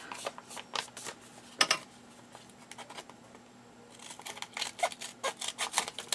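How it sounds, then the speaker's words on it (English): Scissors cut through paper for a handmade journal in a quick series of crisp snips and rustles, close and fairly faint, growing denser toward the end. "And I'm going to cut it like that"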